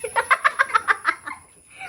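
A running chicken gives a quick, evenly spaced burst of about eight clucks, close and clear, then trails off into softer calls.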